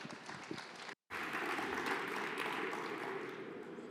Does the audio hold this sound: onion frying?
no